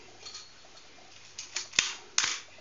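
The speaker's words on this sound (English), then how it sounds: "shutter's firing" Shutter of a Pentax M42 screw-mount film camera with the back open, firing with a couple of sharp mechanical clicks close to the mic, preceded by faint handling noise.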